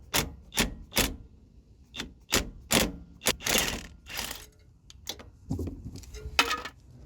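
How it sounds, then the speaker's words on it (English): Wrench work removing the bolt that holds a brake line bracket to the trailing arm of a 1991 third-generation Camaro: a string of sharp, uneven metallic clicks and clunks, close up with short gaps between them. "We need to take off that bolt that holds the bracket onto the trailing arm."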